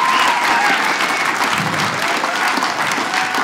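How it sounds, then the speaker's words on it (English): Steady, loud applause from a comedy show audience, dense clapping that holds throughout without talking. "Give a round of applause to the dry bar people"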